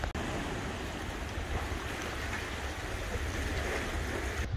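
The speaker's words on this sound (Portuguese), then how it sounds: "Hoje o mar tá tranquilo." Calm sea waves wash steadily inside a coastal cave in Chile, a continuous broad rushing surge with no distinct breaks, close and moderately loud.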